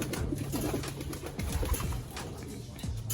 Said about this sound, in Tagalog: Pakainin na natin sila mga kalapatids, nagwawala na.